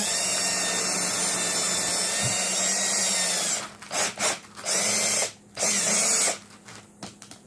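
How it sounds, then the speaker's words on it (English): A power drill whines steadily, then cuts out and restarts in several short bursts with brief pauses between, close by, as it drills holes in a board. "The drill is not wanting to cooperate."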